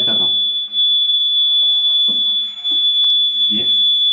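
Steady high electronic alarm tone from a conventional fire alarm panel, sounding continuously at moderate level beneath someone speaking.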